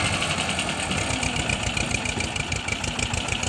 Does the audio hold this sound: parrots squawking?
no